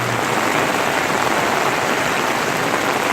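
Torrential rain pouring down at an outdoor spring swap meet at Carlisle, a dense, loud, unbroken hiss of heavy downpour with no talk.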